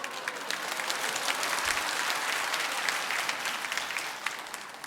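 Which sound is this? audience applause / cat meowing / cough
audience applause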